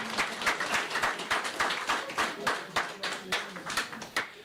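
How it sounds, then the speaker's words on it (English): Audience at a Coke kit launch event giving a round of applause, fairly sparse and distinctly separate claps in an uneven rhythm, moderately quiet and steady across the stretch. "Let's give them a round of applause."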